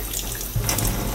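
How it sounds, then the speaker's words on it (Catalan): A thin stream of tap water runs steadily over rovelló mushroom caps as they are rinsed, a close, continuous splashing hiss with no voices. "Tinc rovelló del país que el rentaré sota un fil d'aigua només per la part superior del barret."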